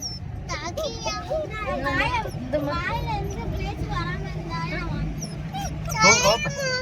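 German Shepherd male puppies, about 35 days old, give high whimpers and yips over steady talk from adults and children, with a louder burst of squealing near the end.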